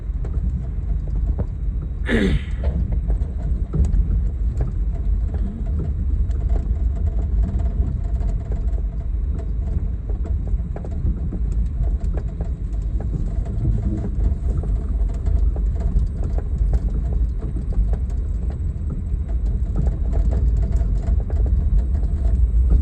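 A spring green 1959 Edsel Ranger on a test drive, shifted into low for engine braking, gives a steady, deep engine and road rumble heard from inside the car, with a brief sharp noise early on.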